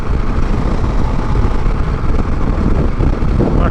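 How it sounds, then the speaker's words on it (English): Wind buffeting the microphone while riding a KTM 690 Adventure motorcycle in a southerly breeze: a continuous loud, low roaring rumble with the engine buried underneath, steady and unbroken throughout. "Actually getting buffeted. A bit of a southerly breeze has come up, I think."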